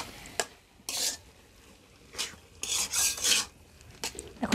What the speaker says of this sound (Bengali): এখন চিনিটাকে ভালো করে মিশিয়ে নিচ্ছি